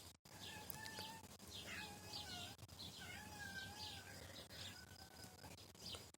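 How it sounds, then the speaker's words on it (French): A small cat calls out to her kittens with repeated short meows and chirping cries, fairly close and clear over a quiet indoor background. "c'est mon petit chat qui appelle ses petits"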